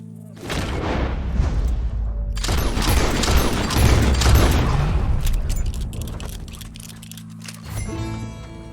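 Burst of loud booming gunfire aimed at a lion while hunting in Red Dead Redemption 2, a heavy rolling volley of shots over several seconds, then fading into quieter mechanical clatter.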